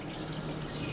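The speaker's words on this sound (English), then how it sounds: "you definitely want to rinse the soap off" A frying pan is rinsed under running tap water in a kitchen, a steady, soft hiss of flowing water with no voices.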